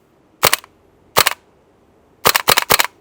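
A gas blowback airsoft AK rifle fires semi-auto: two single sharp cracks with a heavy bolt clatter, then three quick shots in a row, all close and crisp against a quiet background.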